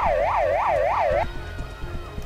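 A wailing ambulance siren in the Emergency 4 video game, with a mod set in Argentina. It rises and falls loudly in a steady cycle, then cuts off abruptly, leaving low background game noise.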